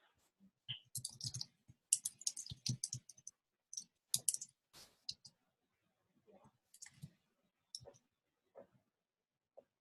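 Several people in a district meeting room type on computer keyboards, producing quiet, scattered bursts of clicking with irregular gaps and pauses, faint and close by, with no talking.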